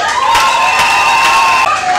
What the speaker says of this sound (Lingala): je vous prie de l'applaudir très très fort